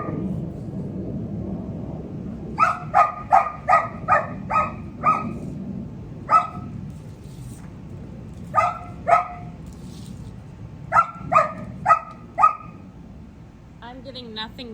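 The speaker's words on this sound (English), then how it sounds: "That's a rock she's barking at." A dog barks loudly and close by at a rock outdoors in repeated bursts of quick, sharp barks, with short pauses between runs over a low background rumble.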